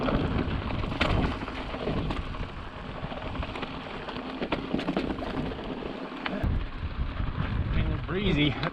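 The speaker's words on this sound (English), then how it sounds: "It'd be way too windy out here." Steady wind rushes and buffets the microphone, a constant roar outdoors at a high viewpoint in Southern Utah, with faint voices now and then.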